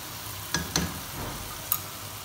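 Prepared tomato puree with green chillies and fried onion is added to hot oil in a handi pan, giving a steady close sizzle broken by a few sharp clinks of a spoon against the pot.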